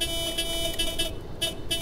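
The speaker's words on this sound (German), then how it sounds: "Jetzt hupe ich auch noch." A bus horn honks in the OMSI 2 bus simulator game, with several short toots over steady engine and traffic hum.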